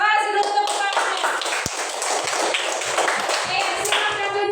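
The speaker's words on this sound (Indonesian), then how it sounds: "Kasih dulu tepuk tangannya." Classroom of pupils clapping for a group after its presentation, a short burst of close, uneven claps mixed with voices.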